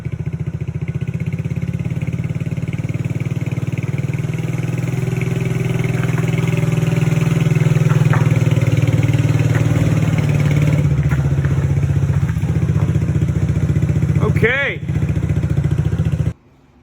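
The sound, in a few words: Datsun six-cylinder engine running at high idle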